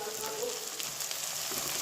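Tomatoes land in a pan of frying onions, dried red chillies and whole garam masala, giving a soft, continuous sizzle with light crackling. The hiss is brief, fairly quiet and close, with no speech.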